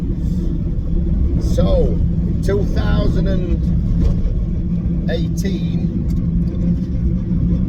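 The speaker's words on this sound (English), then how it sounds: "just driving home from work, van vlog" A van drives home on the road, its constant low engine and road rumble running beneath a voice talking over it.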